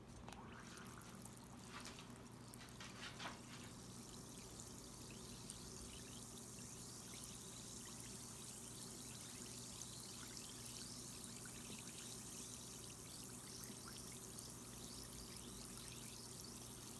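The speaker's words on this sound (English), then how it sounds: "And then we'll be back to see how well they fizz." Homemade bath bombs with embeds fizz in water, giving a faint, continuous hiss and trickle that stays low and steady with no talking.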